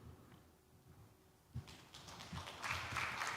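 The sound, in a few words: audience applause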